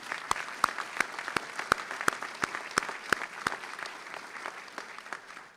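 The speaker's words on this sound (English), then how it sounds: "A big round of applause for Karani." Audience applause at a St. George's University commencement ceremony in Grenada, steady clapping from a large crowd with sharp louder claps standing out near the front, fading slightly toward the end.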